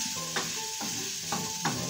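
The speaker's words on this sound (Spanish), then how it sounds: "Ahora vamos a echarle el tomatito, ¿ya? Que se haya glaseado la cebolla." Chopped tomato going into a pan of glazed, sizzling onion for a wheat and chorizo stew, a steady close fry with a few brief stirring scrapes and bumps.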